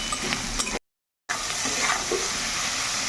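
Spice masala with chili flakes, cooked for a corn dish, sizzles in a pan with a bright steady hiss, broken briefly by a moment of complete silence.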